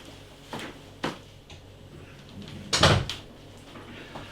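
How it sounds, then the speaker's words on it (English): A door being shut indoors, a few light clicks and knocks of the handle and latch followed by a fuller thud as it closes, near and moderately loud, with no talking. "I'm going to shut this door."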